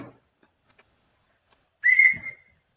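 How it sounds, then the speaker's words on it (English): A single whistle blast, short and fairly loud, heard alone after near silence with a brief murmur at the start, used as a signal during an online quiz show. "Blow that damn whistle."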